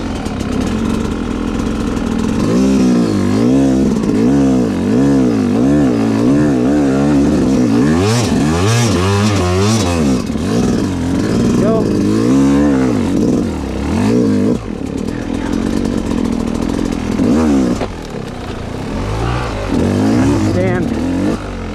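A hard enduro motorcycle engine under a rider on rough terrain, loud and close, revving up and down in repeated surges with steady throttle wavering, while someone talks over it throughout.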